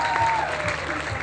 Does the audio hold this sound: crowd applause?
yes